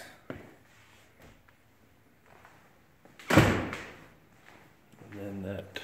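A house door opens or shuts with one solid thud in a quiet room, with someone speaking softly before and after it.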